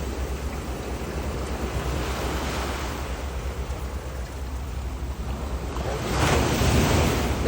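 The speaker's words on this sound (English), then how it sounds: "this cool beach. It's in Portugal." Ocean waves wash onto a beach in Portugal, a steady broadband roar with wind buffeting the microphone, swelling louder near the end as a wave breaks close by.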